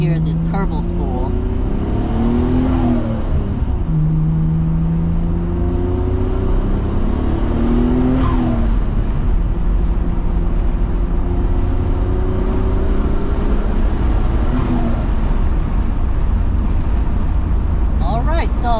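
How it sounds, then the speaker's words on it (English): Nissan GTR R33 with an HKS blow-off valve under acceleration from a stoplight, engine rumbling and rising in several revving pulls with turbo spool, interspersed with brief sharp whooshing bursts, heard from inside the car at close range. "you can definitely hear that HKS blow-off valve. That high-pitched sound is always that signature sound of a HKS blow-off valve."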